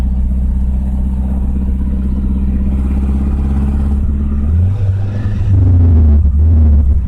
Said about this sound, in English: I let off the gas. It's in gear right now. I've got the freewheel on, and it just coasts.